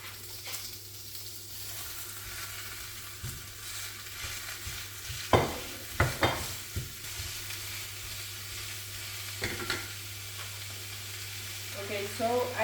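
Beef sizzles and fries in a pan for a homemade pasta Bolognese, a steady crackling hiss under a low hum, broken by a few clanks and scrapes of stirring.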